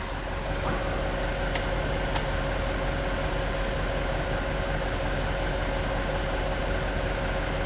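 An Audi S8 engine idles steadily and evenly nearby, a constant low hum with no speech and only a couple of faint ticks.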